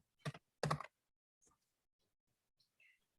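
A few quiet keystrokes on a computer keyboard while typing a search word, two distinct clacks followed by faint, sparse clicks in an otherwise silent room.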